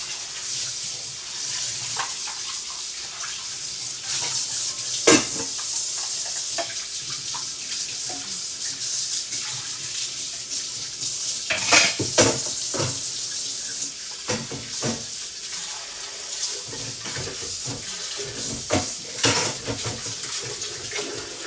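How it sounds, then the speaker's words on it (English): Water runs steadily from a tap while a blender is rinsed out, a continuous hiss of flowing water with splashes and clatters as the jar is moved under the stream, no voices. "I'm just washing out the blender"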